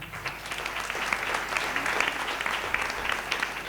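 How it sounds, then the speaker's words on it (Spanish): Applause for a brother at a church gathering during an evangelical pastor versus Catholic priest debate: sustained, even clapping from a crowd, moderately distant and without pause. "Aplauso para el hermano."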